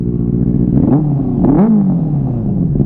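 A Benelli 360 motorcycle engine idles with a loud, close rumble, then revs twice in quick rising-and-falling surges before settling back to a steady throb.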